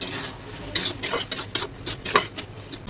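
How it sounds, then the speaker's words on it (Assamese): Stirring and scraping in a pan of fish curry with outenga and taro, faint sizzling, irregular bursts of scraping strokes close to the microphone, no voices. "এতিয়া মই 5 মিনিট সময় এইদৰে ধুনীয়াকৈ ভাজিম।"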